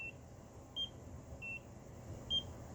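A NIRA laser hair removal device giving four short, high electronic beeps spaced roughly evenly apart, quiet and clean over a faint low background hum.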